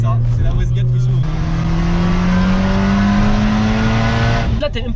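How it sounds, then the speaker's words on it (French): A tuned stage 3+ Skoda Octavia engine, rated at 550 horsepower, revs loudly and steadily climbs in pitch, with a brief whoosh as the wastegate opens; voices talk over the close engine roar. "C'est la Westgate qui s'ouvre."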